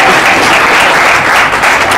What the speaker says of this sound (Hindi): ताली बजाना चाहिए, उससे बहुत बहुत फायदे होते हैं